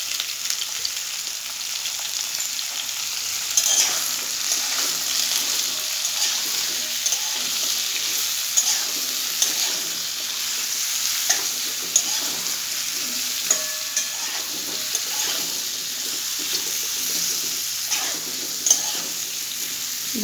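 Potato pieces frying in a pan with salt and turmeric, a steady close sizzle with occasional soft stirring scrapes and taps throughout.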